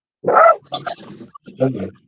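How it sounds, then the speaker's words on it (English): Dogs barking indoors, a loud close bark followed by a couple of shorter yaps and growly barks in quick succession, with nobody talking over them. "I don't know what they're barking at."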